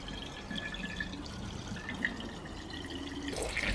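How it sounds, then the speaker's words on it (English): Tap water pouring into a bottle being filled to the top, a continuous close rushing gurgle that rises slightly in pitch toward the end, with no voices. "So make sure you fill this up to the top."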